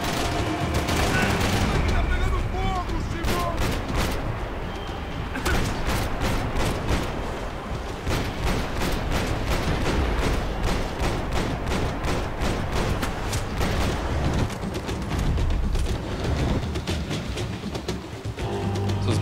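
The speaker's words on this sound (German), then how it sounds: "Wie man hier echt so die Bretter wegballern kann." Rapid bursts of gunfire blasting apart wooden boards in the shooter game Max Payne 3, loud and nearly continuous with crackling splinter impacts, under someone talking.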